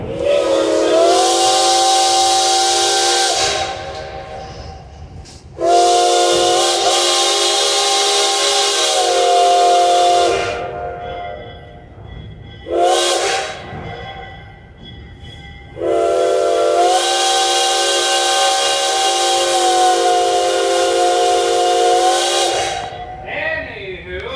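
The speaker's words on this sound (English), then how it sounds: "Also, New York Central 5 chime, ladies and gentlemen. That's what the whistle is for this locomotive." A New York Central five-chime steam locomotive whistle sounds in three long, loud, close blasts with a short toot between, its layered chord-like tone over steady hissing steam in a rail yard.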